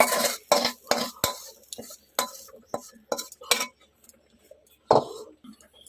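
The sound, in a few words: serving food into a bowl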